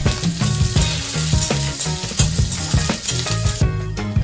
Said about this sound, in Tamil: கூடவே காரத்துக்கு தேவையான பச்சை மிளகாய், கொஞ்சமாக கருவேப்பிலை சேர்த்துட்டு இதை லேசாக வதக்கிடலாம்.